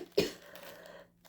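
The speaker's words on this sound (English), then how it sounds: "I cough in this video because I choke on my spit" A single short cough, close and fairly quiet, followed by a faint trailing breath and near silence.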